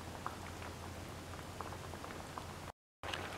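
A yam and tomato stew simmers in a pot, a soft steady bubbling hiss with faint popping, quiet and continuous before a brief silence near the end.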